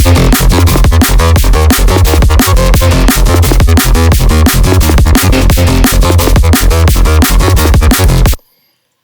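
A loud, dense neuro bass synthesized in Serum 2 pulses in rapid rhythmic chops with a melodic line on top, then cuts off abruptly into silence.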